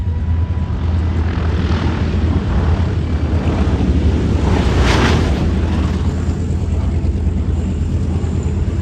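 Propeller aircraft engines at the Shellharbour airshow drone loudly and steadily throughout, with a broad roar and some wind buffeting on the microphone, swelling slightly midway.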